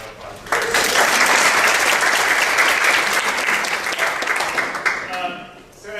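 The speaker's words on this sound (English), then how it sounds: "I think we deserve a round of applause for" An audience breaks into loud, sustained applause that swells quickly and holds, then tapers off as a voice begins speaking near the end.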